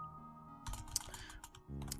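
Keys on a French AZERTY computer keyboard are tapped in a quick, uneven burst of soft clicks, close and quiet, with no one talking.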